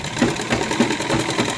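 Sewing machine running a center line of stitching on a heavily hand-worked suit, steady mechanical whir with a regular pulsing rhythm, close and moderately loud.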